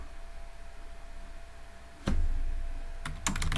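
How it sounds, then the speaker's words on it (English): A few sharp keystrokes clack on a computer keyboard, a lone tap followed after a pause by a quick cluster of clicks, close over a quiet room hum. "Now if I run this, I'm gonna type here I am"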